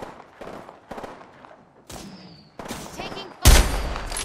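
Gunfire in Apex Legends: several bursts of shots in quick succession, the last one loud and close. Game sounds play around them.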